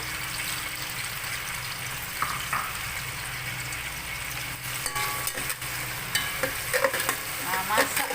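Dried shrimp frying in a pan for pineapple pajeri, a steady sizzle with frequent scraping and clattering of a spatula as it is stirred, continuous and fairly close, with some watery splashing in the background.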